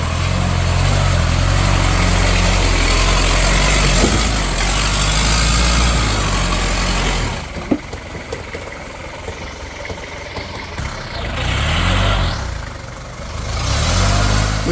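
A vehicle stuck on a rough, damaged road on an expedition to Indonesia's Dukono volcano drones loudly as its engine revs and the wheels spin. The roar drops partway through, then surges again near the end.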